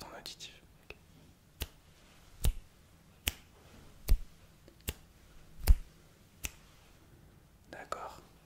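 Close ASMR finger snaps, sharp single clicks spaced about a second apart, with soft whispering at the start and end.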